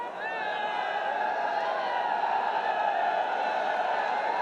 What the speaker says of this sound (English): the crowd has been pretty happy